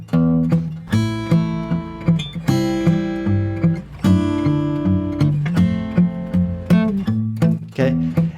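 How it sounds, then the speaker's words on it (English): Acoustic guitar fingerpicked in Travis style, with an alternating bass under a melody on the first string, plucked notes ringing in a steady rhythm, close and clear with no talking. "I'll just play the first string, and that'll sound like this every time."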